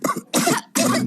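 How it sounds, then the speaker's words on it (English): Cartoon character coughing in a children's animated series, three harsh rough coughs in quick succession, close and loud, with no talk over them. "Pedro's cough."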